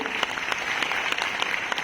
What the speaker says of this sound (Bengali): তো নিজেদের জন্য একটা হাততালি